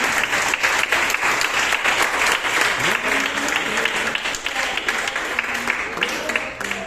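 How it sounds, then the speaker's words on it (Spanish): Church congregation applauds in praise, steady dense clapping throughout, with voices calling out and shouting over the clapping. "Dar un aplauso al Señor"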